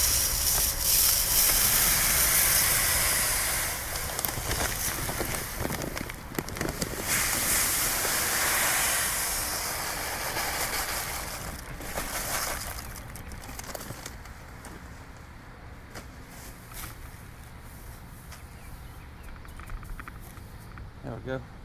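Chicken feed from a 50-pound bag pours into a 10-gallon can as a loud, continuous rushing hiss that fades gradually, with a person speaking during it.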